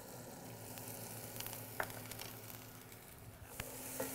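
Onion sizzling softly in butter in a frying pan, a faint steady hiss with occasional small pops and light utensil clicks, close but quiet.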